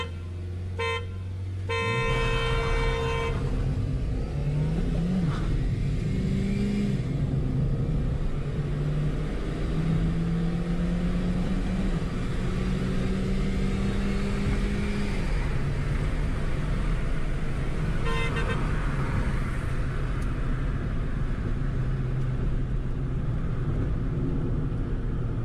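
Loud, continuous engine roar and rumble from a drag race between a Ford Ikon and a Hyundai Grand i10, with rising and falling engine pitch as the cars accelerate and brief horn-like tones near the start.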